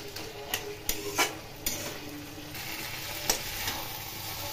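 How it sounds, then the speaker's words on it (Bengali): A Malabar spinach (pui) curry with fish head is stirred in a frying pan: close, loud scraping strokes of the spoon against the pan at an uneven pace over a constant sizzle. "বারবার নেড়ে দেবো, নেড়ে দিয়ে নামিয়ে নেব।"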